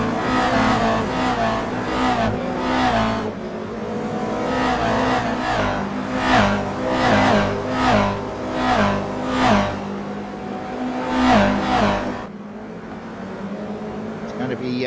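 Race cars on a street circuit roaring past in a big field, repeated engine surges and revving passes rising and falling in a regular rhythm, loud and close, with commentary running over the engines.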